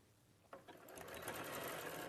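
A sewing machine starts up and runs, stitching a label back onto fabric, a fast steady mechanical whir building after a couple of clicks and continuing evenly, close and fairly quiet.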